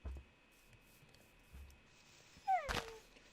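A tamed dog in the Minecraft video game gives a single short, high whimpering whine, clear and close, after a few soft clicks and thuds.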